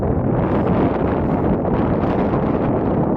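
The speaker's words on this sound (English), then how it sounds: "So as you could hear there, plenty of wind" Strong wind batters the microphone of a Sony RX10 IV camera outdoors, producing a loud, continuous, buffeting rumble that fills the whole stretch with no voices.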